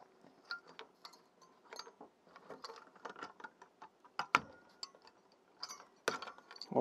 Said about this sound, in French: Alors on va retirer le bloc ventilateur.